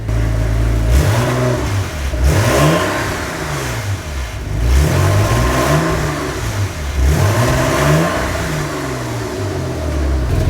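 Porsche 986 Boxster engine revving repeatedly through its exhaust, loud and close, with several rising and falling sweeps in quick succession and no talk.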